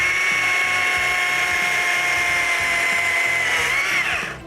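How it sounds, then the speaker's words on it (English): A chainsaw cuts through a tree branch with a loud, steady high-pitched whine that holds throughout, then drops in pitch and fades as the cut finishes. No talking. "That's why we use a chainsaw."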